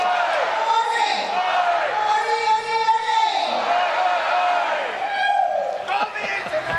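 A lawn bowls crowd at an Australia v Rest of the World match cheers and yells as a former Australian captain revs them up on a microphone, a sustained loud roar of voices throughout.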